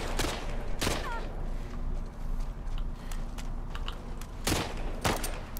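Scattered gunshots from a firefight in The Last of Us Part II, several sharp cracks spread across the stretch over a steady game ambience, with faint voices at times.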